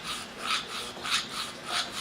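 Hand file rasping the metal teeth of a vintage bear head bottle opener, four or five close, crisp back-and-forth strokes in a steady rhythm, with no talking.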